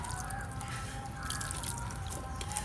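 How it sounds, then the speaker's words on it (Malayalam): Water is sprinkled onto freshly planted seedlings in a terrace garden in a soft, steady patter of drops, close by, with no voices. "പിന്നെ നമുക്കിതിൽ വെള്ളവും കുടഞ്ഞു കൊടുക്കാം"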